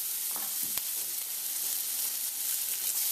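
Black pepper is stirred into sizzling leftover stewed pork and eggplant in a hot pan, with a steady frying hiss and a few brief scraping stir sounds, no talking.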